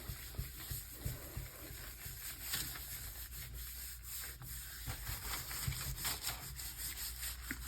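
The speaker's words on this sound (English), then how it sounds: "you got to make sure you're rubbing all your small little sections" Newsprint rubbed by hand across a gelli printing plate during abstract printing in orange layers: a steady, close, papery scrubbing in short overlapping strokes, with no talk.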